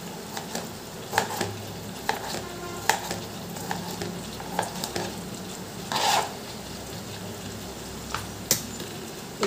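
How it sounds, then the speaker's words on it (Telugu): Onion sizzling and frying in hot oil in a pan as the base for a quick eggplant curry, with steady close crackle and repeated clicks and scrapes of a spoon stirring, no talking. "ఫస్ట్ అయితే ఆయిల్ వేసుకుని ఒక ఉల్లిపాయ వేసాను."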